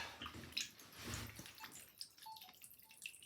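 Water trickling and dripping from an interactive toy axolotl as it is lifted out of water, quiet irregular drips and small splashes that fade into scattered drops.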